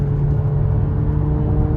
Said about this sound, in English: Floor it one more time for you.